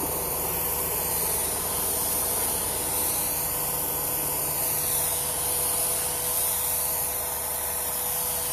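A Wagner home decor paint sprayer sprays in a steady, loud, continuous hiss with a faint motor hum underneath, running unbroken throughout.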